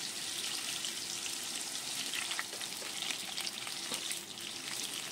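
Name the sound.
potatoes frying in oil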